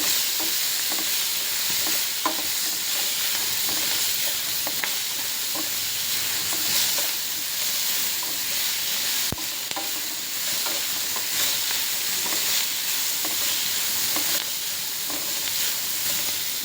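Fenugreek greens (methi palya) fry in a pan on a gas stove, a continuous loud sizzle and hiss with occasional stirring clicks and scrapes, steady throughout with no talking.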